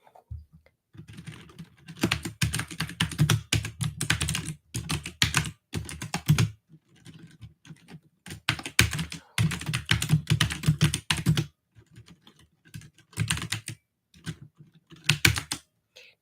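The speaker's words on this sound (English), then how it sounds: "Just going to type that into the chat here." Rapid typing on a computer keyboard, close and clear, in bursts of clattering keystrokes broken by short pauses, with no one speaking.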